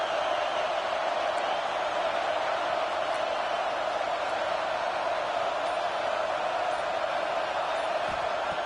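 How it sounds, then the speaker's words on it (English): A football stadium crowd roars steadily during a red-zone defensive stand, a broad continuous wash of cheering and noise that holds at an even level throughout, distant and diffuse with no clear individual voices. "here comes the noise. This crowd is trying to inspire this defense to make a big red zone stop"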